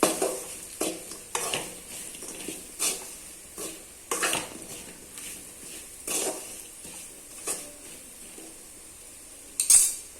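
A spoon stirs roasted spice powder through elephant foot yam in a metal pan, giving a series of irregular scraping clanks roughly every second over a faint sizzle, close and moderately loud.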